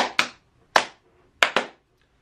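Hands clap in a loose rhythm, five sharp claps in quick pairs and singles, close and clear against silence.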